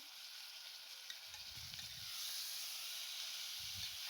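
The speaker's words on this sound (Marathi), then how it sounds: "ही डाळ आपण तेलामध्ये छान भाजून घ्यायची आहे" Soaked moong dal sizzles steadily in hot oil for a khichdi, a continuous close broadband fry hiss with a brief pop near the start, plus two soft low thumps of stirring underneath.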